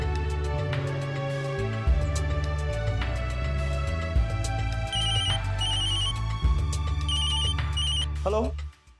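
A telephone rings in repeated bursts inside a bank's locker area, heard over a busy background bed of music.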